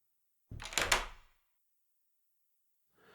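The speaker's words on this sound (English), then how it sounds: "Close the door, you're letting the air out." A door swings shut once, with a single close thud and rattle followed by silence and then faint room noise.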